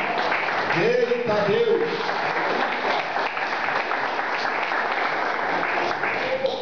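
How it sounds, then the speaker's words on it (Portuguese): A church congregation claps during a Portuguese-language service, dense sustained applause with a voice calling out over it near the start. "Podeis assentar as palmas para Jesus, Ele merece."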